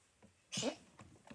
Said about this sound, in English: Oh, you're having a cough.